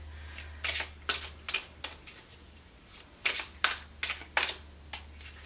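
Tarot cards shuffled and drawn from a deck in a series of crisp, close riffling bursts, about a dozen quick flutters in two clusters with short pauses between, no talking.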